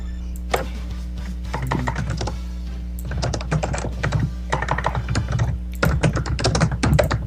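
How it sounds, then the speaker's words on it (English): Rapid bursts of typing on a computer keyboard, close and clear, with irregular clusters of key clacks separated by short pauses over a steady low electrical hum. "With special guest, the keyboard."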